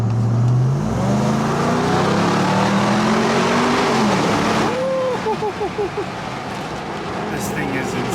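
A pickup truck engine revs hard and climbs in pitch as it pulls away, loud and close, then drops into a lighter rumble with a voice talking over the idle.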